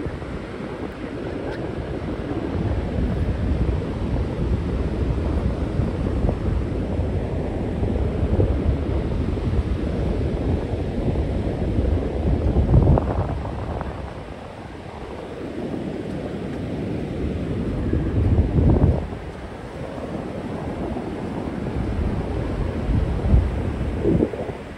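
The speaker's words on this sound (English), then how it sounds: "you can at least hear the waves a little bit." Ocean surf rolls in a steady, broadband wash, swelling twice into louder breaking waves, with wind rumbling across the microphone and no talk.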